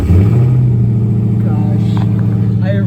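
A 2016 Dodge Challenger SRT Hellcat engine roars to life close by, settling into a deep, loud, rumbling exhaust idle.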